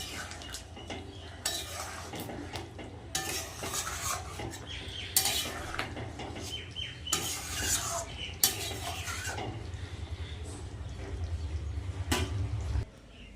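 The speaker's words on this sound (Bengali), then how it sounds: "আমার ডিমের ঝোল ফুটে গেছে এবার একটু দিয়ে দেবো গরম মশলা এবার নামিয়ে নেবো" Egg curry with potato simmering in a pot as garam masala goes in, a spoon stirring and scraping against the metal in bursts over a steady low bubbling hiss, close and fairly loud.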